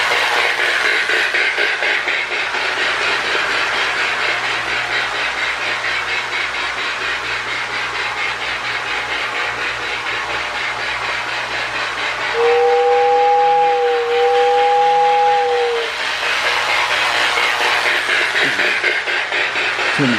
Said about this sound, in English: I love the early electronic Sound of Steam, whether Marx or Lionel